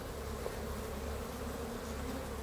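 Dense, continuous buzzing of many honeybees swarms around a hive being split, a close, steady drone with no voices.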